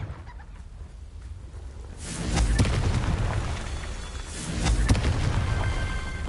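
Explosive Confringo spell cast in Hogwarts Legacy on PS4, a deep booming blast erupting near two seconds in and a second burst near five, each with a rumbling crackling tail over steady ambient background.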